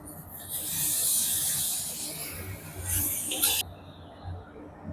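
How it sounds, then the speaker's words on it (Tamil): Tomatoes drop into a hot sautéing pan and set off a loud, close hiss that swells, sputters and then cuts off sharply, followed by a quieter sizzle. "இப்போ நல்லா இது வதங்கிருச்சு நம்ம வந்து தக்காளி சேர்த்துக்குவோம்"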